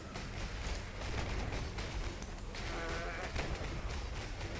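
A boss goat in the video game Path of Exile lets out loud, rough bleats over a dense, noisy bed of game sound, with a wavering cry rising near the end.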